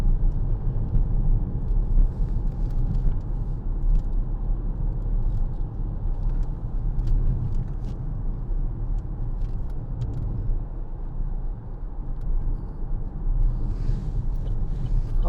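A 2014 Vauxhall Insignia 2.0 CDTi SRi five-door diesel cruising on the road, heard as a steady low engine and road rumble with some wind noise, continuous and even throughout, with no talking.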